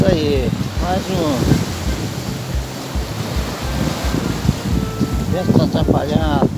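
Wind gusting across the beach at Praia Ferradurinha during fishing, a loud rumbling buffet on the microphone over surf, with people talking throughout.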